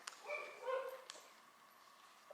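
A dog barking, apparently at ducks, indoors at a knitting shop in Toronto: a few short yips and whimpery barks in quick succession, moderately near, then a quiet room tone.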